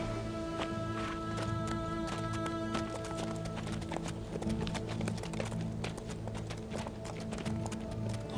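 Horses' hooves clip-clop steadily as soldiers halt and tether their mounts, a dense, continuous patter of many hooves with jingling tack over a low musical drone.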